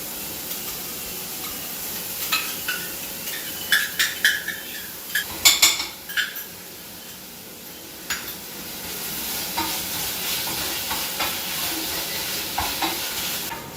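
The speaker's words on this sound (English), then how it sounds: "Now we will add this ginger garlic paste." Ginger garlic paste sizzles as it is sautéed in a hot oiled pan for methi mutter malai, with steady frying crackle, repeated scraping and clinks of a spoon stirring against the metal, and a few sharper bursts mid-way.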